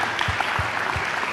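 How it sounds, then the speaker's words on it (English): An audience at a school presentation gives a steady, dense round of applause. A few low thumps sound under the clapping, with no talk. "They deserve a big round of applause."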